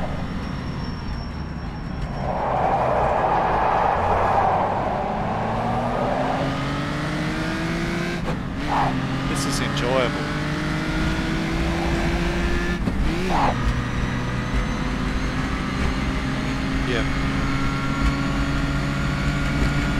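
A 1954 Daimler-Benz 300 SL drives a lap of the Bathurst circuit, its engine droning steadily and rising in pitch through gear changes, with a few sharp clunks and faint bits of wind noise.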